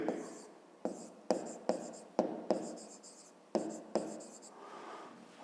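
Chalk or marker tapping and scraping on a board during a fifth-grade math exercise, a run of short, distinct strokes and taps close by, moderately quiet, with no talking over them.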